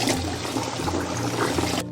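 Pigeon meat rinsed clean under a running kitchen tap, a steady close splash and hiss of water flowing continuously before cutting off at the end.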